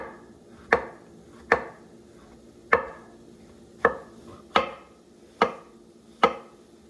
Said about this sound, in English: These are some big mushrooms. I'm trying to thinly slice them.